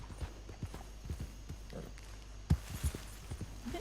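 Horse hooves in the video game Red Dead Redemption 2, a steady series of soft thudding footfalls at a walk over ambient game noise, with one firmer pair of steps partway through, no talking.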